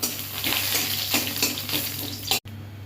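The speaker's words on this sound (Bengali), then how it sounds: "জল দিয়ে দিচ্ছি।" Water splashes into a cooking pot holding drumstick and ivy gourd leaves, red lentils and green chillies, a loud steady gushing pour with bubbling surges that cuts off abruptly near the end, followed by a quieter sizzle.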